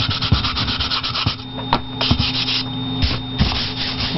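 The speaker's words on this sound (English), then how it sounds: "I'm lightly sanding it because I'm trying to get a smoother" A sander lightly working over a wooden plaque, a steady close abrasive rubbing that swells and eases in uneven strokes, with occasional knocks and no voices.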